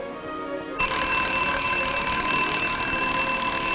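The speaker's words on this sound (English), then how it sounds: "she got up when the alarm went off" An alarm clock ringing, starting abruptly after a moment of quieter sound and then holding as a loud, steady, bright metallic ring to the end.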